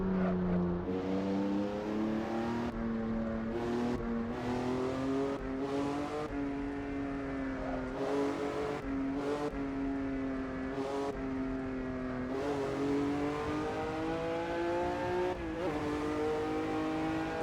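A race car in the Assetto Corsa game howls around the Pescara circuit, its engine note rising through the gears with steady revving, brief lifts and upshifts, loud and continuous with no talk.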